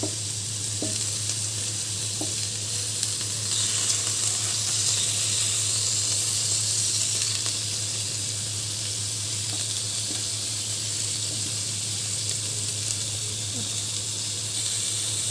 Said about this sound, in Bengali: বাকি যেই রসুন কুচি, পেঁয়াজ কুচি রয়েছে ওগুলো আমি ছেড়ে দেবো।